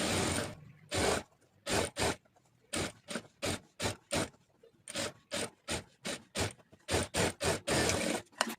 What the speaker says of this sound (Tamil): இப்போ இதை அப்படியே லைட்டாக இதில் ஒரு தையல் போட்டுக்குவோம்